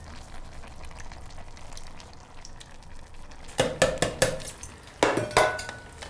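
Canned chopped tomatoes being stirred into a pot, a low simmering bubble that gives way to a cluster of loud, close clanks and scrapes of a spoon against the pot.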